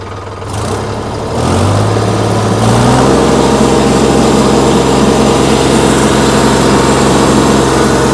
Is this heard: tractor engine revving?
yes